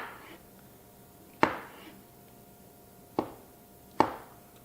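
A knife cuts boiled eggs into bite-sized pieces for homemade potato salad, with three sharp, isolated chops on a cutting board separated by quiet pauses.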